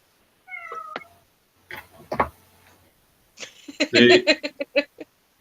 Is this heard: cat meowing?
yes